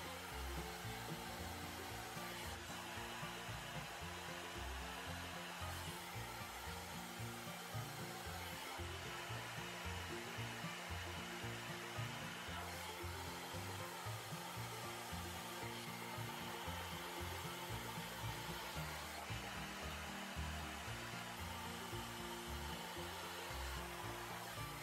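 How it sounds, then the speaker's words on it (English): A hair dryer blows steadily and loudly for the whole stretch during at-home hair styling with a brush, its constant airy roar shifting slightly as the airflow moves over the hair. "So I'm just going to take this part and blow dry."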